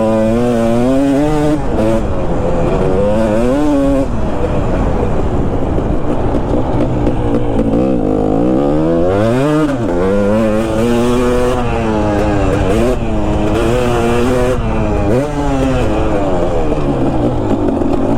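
A two-stroke dirt bike engine revs and drones continuously at close range, its pitch rising and falling with repeated throttle blips and gear changes, steady and loud throughout with no break.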